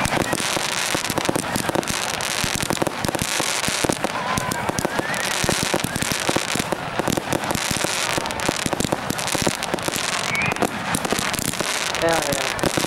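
Red Apple 25-shot fireworks crackle and pop in a dense, continuous barrage, loud and sustained throughout, with people's voices mixed in.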